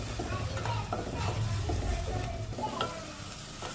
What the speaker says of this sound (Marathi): आता आपण त्याला हलवून घेऊया आणि थोडे गुलाबी तर आपण त्याला राहू देऊया फ्राय करू